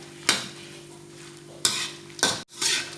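Ingredients for tom yum pork leg soup frying in a pan, a steady close sizzle broken by a few sharp scraping stirs, with no talk.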